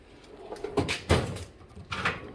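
A metal drawer on a home-built welding cart slides open with a few scraping, rattling bursts and a thud, close by and with no talk.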